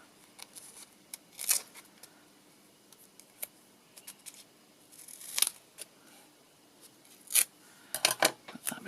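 Scissors snipping a paper tag in half, a handful of short crisp cuts spaced irregularly, close and quiet against a near-silent background.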